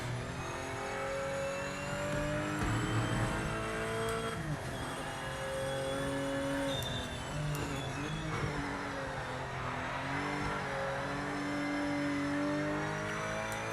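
A race car in Project Motor Racing powers down a straight, its engine droning and revving steadily with rising and falling pitch as it shifts, under constant tyre and road noise, loud and close throughout.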